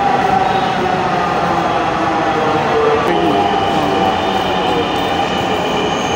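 Dhaka metro rail train running, a steady loud rumble of the carriage with rolling wheel noise and faint squeals throughout, and voices murmur in the background.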